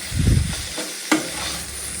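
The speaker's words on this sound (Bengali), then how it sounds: "চিকেনটাকে একটুখানি কিমা করে নিয়ে চিকেন কিমাটা দিয়ে দিলাম" Chicken mince frying in a pan while being stirred, giving a close sizzle with scraping and stirring noises and one sharp clank partway through.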